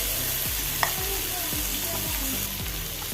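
Kilimeen (threadfin bream) pieces frying in hot oil with curry leaves give a continuous crackling sizzle, close and even, broken by a few light spatters and stirring scrapes.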